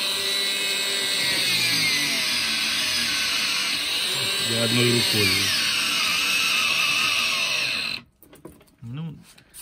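A new Milwaukee cordless angle grinder runs with a steady high whine and hum that stays constant for several seconds and then cuts off abruptly, with someone talking briefly over it.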